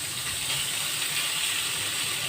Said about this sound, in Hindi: इसको कर लेना है अच्छी तरह से फ्राई।